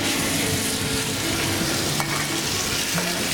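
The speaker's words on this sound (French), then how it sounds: "On va faire dans cette petite marmite revenir gentiment pour faire un petit peu colorer donc la volaille." Poultry pieces browning in a small pot over fairly high heat, giving a steady close sizzle and frying hiss with a few faint utensil clicks.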